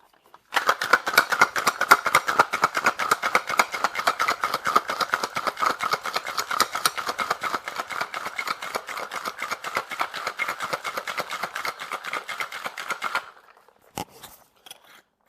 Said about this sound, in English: Lastly, we're going to shake.